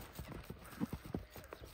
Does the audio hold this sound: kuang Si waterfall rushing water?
no